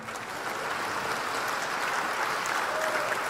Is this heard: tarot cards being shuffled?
no